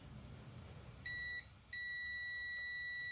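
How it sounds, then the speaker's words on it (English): Two steady electronic beeps from a multimeter continuity test, a short one then a longer continuous tone, sounding clearly over a low background hum. "that is the audio tone for checking continuity"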